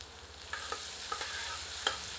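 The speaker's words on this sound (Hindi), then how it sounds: "आंच को मध्यम कर लेते हैं और प्याज को सुनहरा होने तक भून लेते हैं।" Onions fry quietly and steadily in hot mustard oil with a soft sizzle and a few light stirring scrapes, close by and with no talking.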